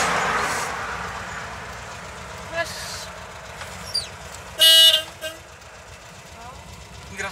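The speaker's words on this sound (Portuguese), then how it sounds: "Vai tirando e botando com a buzina ligada." A Volkswagen Kombi van horn sounds in short bursts while the horn wiring is being tested, with one loud honk standing out among a few brief toots and light workshop noise.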